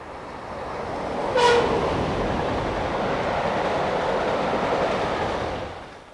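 A train passes the site of the former Ketton Station, a steady rumble swelling and then fading, with a brief horn blast near the start.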